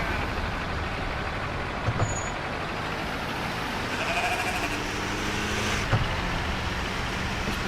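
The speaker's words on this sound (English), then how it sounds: "There we go, watch the sheep." Sheep bleat faintly in the truck-driving video game Truck Mechanic: Dangerous Paths, a few short calls over a steady rumbling engine and road noise, with occasional brake hiss.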